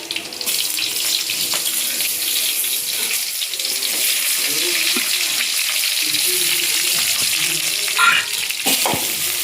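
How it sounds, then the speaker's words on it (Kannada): Onions and green chillies frying in hot oil, a steady close sizzle that runs the whole way through with a few light stirring scrapes and clatters. No one speaks. "ಈರುಳ್ಳಿ ಎಲ್ಲ ಕೆಂದ ಕಲರ್ ಬರಬೇಕು, ಅಲ್ಲಿವರೆಗೂ ಫ್ರೈ ಮಾಡ್ಕೊತ ಇದ್ದೀನಿ"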